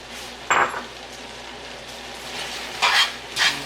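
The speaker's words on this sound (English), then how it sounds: "Want to toss that to incorporate the lemon juice into the noodles" Linguine is tossed with lemon juice in a pan, giving a soft background sizzle broken by a few brief, scraping clinks of pasta and utensil against the metal.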